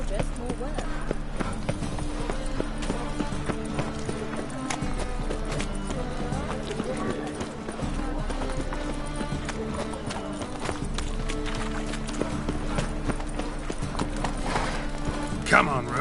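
The horse Roach gallops in The Witcher 3, with quick, rhythmic hoof clip-clops running steadily throughout under a voice.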